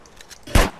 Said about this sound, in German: Ich habe sogar gesehen, wie der Schuss in den Kopf ging.